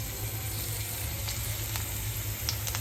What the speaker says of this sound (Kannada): ಎಣ್ಣೆ ಹಾಕೊಂಡಿದೆ ನೋಡ್ರಿ ಹಂಚಿನ ಮೇಲೆ. 1 ಹಿಡಿಯೋಷ್ಟು ಬೆಳ್ಳುಳ್ಳಿ ಪೇಸ್ಟ್ ಮಾಡ್ಕೊಂಡು ಹಾಕೋರಿ